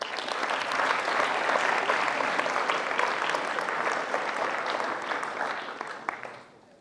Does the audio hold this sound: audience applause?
yes